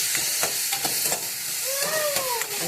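Vegetables and green chillies sautéing in a pan, with a steady close sizzle, repeated spoon stirring taps and a few brief squeaky scraping tones.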